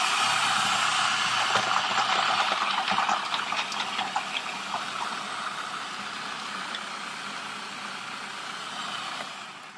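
A Cuisinart Elemental 13-cup food processor running on high while chopping garlic gives a steady whirring motor noise with rattling bits of chopped food. It is loud and continuous at first, then settles slightly lower, with no talking.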